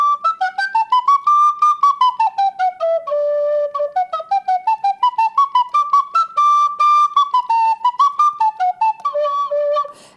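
A conical English-made whistle, shaped like a penny whistle that narrows to a point, plays a lively folk tune alone, with bright, clear notes stepping up and down in quick articulated phrases.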